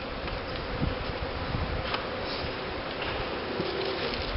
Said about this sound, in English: which has tons of bees under it